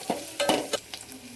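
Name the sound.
red chillies and spices dry-roasting in a pan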